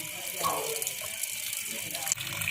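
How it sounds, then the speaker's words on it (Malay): Water and gas gush steadily from a residential borehole well in North Aceh, a continuous hissing, splashing rush heard close up, with faint voices in the background. "inilah sumur bor yang mengeluarkan gas"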